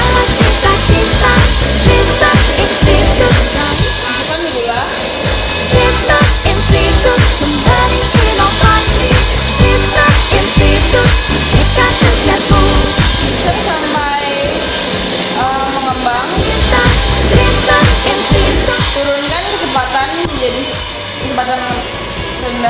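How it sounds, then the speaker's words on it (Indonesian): Electric hand mixer whirring at high speed through putu ayu cake batter, a loud, steady buzzing drone with a faint rattle that runs unbroken for the whole stretch. "lalu mixer dengan kecepatan tinggi."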